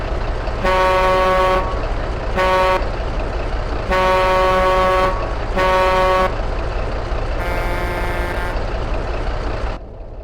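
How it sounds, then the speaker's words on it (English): The air horn of a Freightliner Argosy truck in American Truck Simulator sounds in five loud, chordal blasts of uneven length, spaced by short gaps, over a low idling engine rumble. "Finally, a truck that has a nice matching horn."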